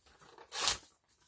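Thin scrap paper is torn in one quick, close rip that rises to a bright, crisp peak, with faint rustling handling before and after and no talking.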